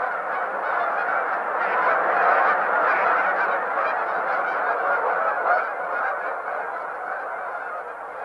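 A large flock of migrating geese at Horicon Marsh honks in a dense, continuous chorus, loud and unbroken throughout.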